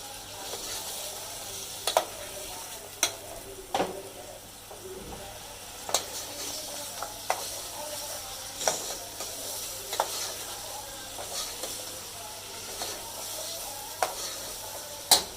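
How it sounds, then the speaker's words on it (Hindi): Chicken is added to browned onions in a pan for a spicy pickled-style curry, giving a steady close sizzle with scraping stirs and occasional sharp clicks of a utensil, and no talking. "चलिए ये देखें प्याज ब्राउन हो गई हमारी। अब हम इसमें चिकन डालेंगे।"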